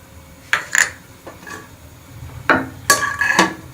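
Metal spoon stirring and scraping through curry ingredients in a cooking pot, with green chillies and garlic-ginger paste just added for kadhi pakora, giving several distinct clinks and scrapes spread over a few seconds.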